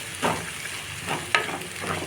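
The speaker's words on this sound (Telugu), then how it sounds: "బాగా వేగిన తర్వాత ఇందులోకి పాలకూర వేసుకున్నాం. ఈ లోపలికి కలుపుతూ ఉందాం." Spinach sizzles in a hot pan as it is stirred, giving a steady frying hiss with a few soft scraping strokes close by.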